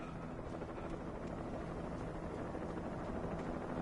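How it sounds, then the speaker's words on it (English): In the game Alan Wake, low, steady helicopter rotor chop with a droning hum, fairly quiet and continuous, like an aircraft flying low nearby. "How low is that helicopter flying?"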